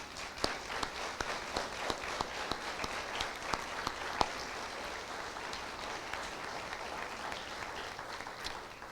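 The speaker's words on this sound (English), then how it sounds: "Give them a round of applause, please." A crowd applauds steadily at a community college event, with dense clapping and a few sharper individual claps standing out, sustained throughout at moderate volume.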